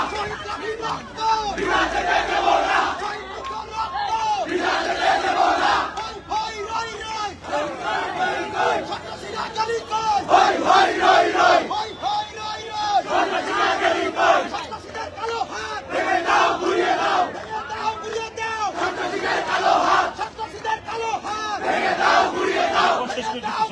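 A large crowd at a political rally chants slogans in loud, rhythmic unison, the call-and-response pattern repeating steadily with shouted phrases rising and falling throughout.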